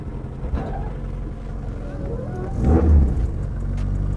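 Engine of a six-speed rally car with a light flywheel, revved from inside the cabin: a low rumble that climbs into a louder rev near the end, with voices audible over it.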